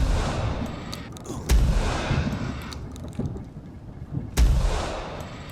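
Weapon fire in the video game Phantasmal: a few heavy, booming shots spaced seconds apart, each with a deep thump and a lingering rumbling tail over faint game ambience.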